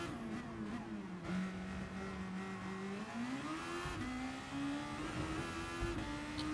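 Race cars in GT Sport, played on the Austrian GP circuit, roar continuously at close range, their engine pitch climbing and dropping through gear changes, with a faint tyre squeal mixed in.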